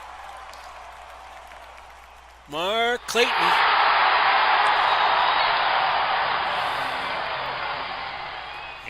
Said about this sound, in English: And that gets the Miami crowd back in the game.